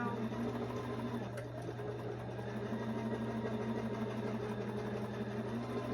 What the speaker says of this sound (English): Removing those pins as I sew.